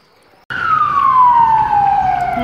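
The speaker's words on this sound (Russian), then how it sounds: "так у нас по улицам ездит скорая помощь" A siren on a Spanish street, from an ambulance or police car passing through, cuts in abruptly and wails loudly in one long, falling sweep, close by, with no talk over it.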